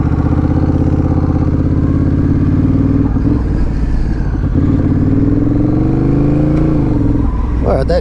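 A Honda Rebel 1100 DCT motorcycle accelerates in sport mode, its loud engine note climbing steadily and holding each gear longer before shifting, with a rider's voice partly audible over it.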